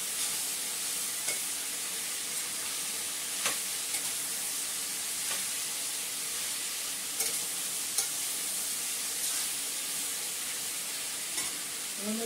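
Food sautéing in a pan on a home kitchen stove, a continuous loud sizzle and hiss with occasional scraping stirs across the whole stretch.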